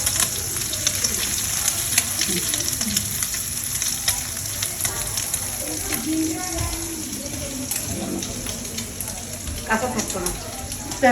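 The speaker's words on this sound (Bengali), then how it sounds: "ডিম ভাজতেছি" Eggs fry in a pan with a loud, continuous close sizzle and crackle, occasional stirring scrapes, and scattered voices speaking in the background.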